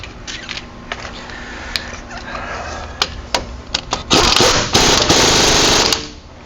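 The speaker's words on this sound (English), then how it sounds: "Tighten up the axle nut." Impact wrench tightening the axle nut on a 2011-18 Ram 1500 during driver-side wheel hub and axle shaft work: scattered clanks and short rattling bursts, then a loud sustained hammering buzz close by, no speech.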